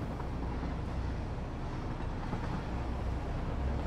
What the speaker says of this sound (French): je comprends pas pourquoi les trains maintenant ils ne vont qu'à 120 km/h